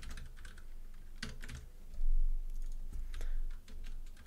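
Typing on a computer keyboard kept under a desk, a quiet irregular patter of key clicks in short bursts with brief pauses, close and alone without voices.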